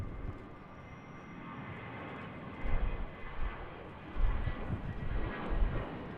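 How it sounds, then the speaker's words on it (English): An Airbus A321 departs Raleigh-Durham airport under dark clouds, its engine roar a broad distant rumble that swells in waves and grows louder toward the end, heard alone without talk. "Beautiful A321 departure."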